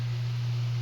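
A malfunctioning MSI computer fan gives off a loud, constant buzzing hum that stays steady and unchanging throughout.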